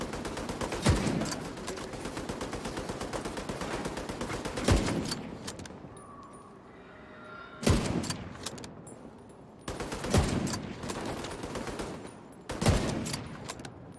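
An enemy light machine gun fires in The Division 2, loud rapid bursts of automatic fire separated by brief lulls, several bursts in a row with sharp impacts.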